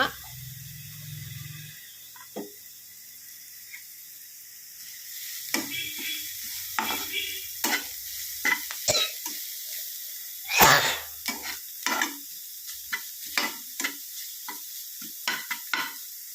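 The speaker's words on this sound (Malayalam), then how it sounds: "ഉള്ളിയൊക്കെ ആദ്യം ഇട്ട് കൊടുക്കും ഉള്ളി പച്ചമുളക് ഇഞ്ചി തേങ്ങ" Onion, green chilli, ginger and coconut cooking in a pan, heard as scattered utensil scrapes and clinks over a quiet, faint sizzle, with a low hum at the very start.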